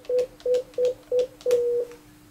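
Dialing tones from a desk phone handset keying in an access code and a cell phone number: four short evenly spaced beeps, then a longer fifth tone, clear and close with no talking.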